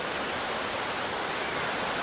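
Victoria Falls in Zambia roaring in full flood, a dense, continuous wash of falling water that holds steady and loud throughout with no voices.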